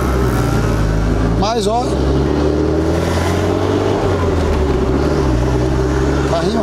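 A Toyota MR2 Turbo drives along a city street in heavy traffic, its engine a steady close drone as it rolls, while someone speaks briefly over it.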